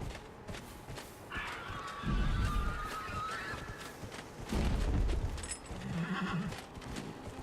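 A horse in the video game Dragon Age: Inquisition gives a moderately loud whinny and soft hoof clops, with a brief second whinny and faint background game sounds.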